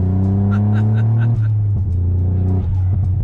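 A Toyota Yaris GR with a Stage 2 tune revs hard while accelerating, a loud, close engine drone that holds high and then drops briefly at a gear change before pulling again.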